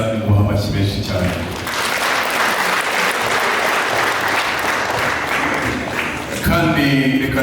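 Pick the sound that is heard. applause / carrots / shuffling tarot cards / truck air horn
applause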